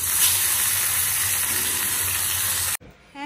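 Fish frying in a pan gives a steady, close, fairly loud sizzle and crackle. It runs unbroken for nearly three seconds, then stops abruptly, leaving a brief quieter tail.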